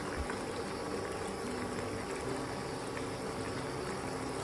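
A pot of potatoes and dried Kashmiri red chilies simmers in water for Bhutanese kewa datshi, giving a steady close bubbling hiss with no break and no voices.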